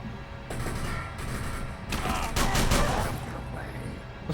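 Dense bursts of gunfire aimed at the player in Call of Cthulhu: Dark Corners of the Earth, a rattling volley that swells louder midway and then fades back, with no other sounds standing out.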